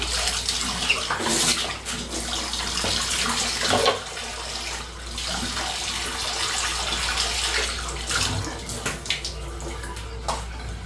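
Tap water running steadily for a child's shower in a home bathroom in Busan, a continuous rushing splash with small shifts in flow, close and fairly loud, with no talking.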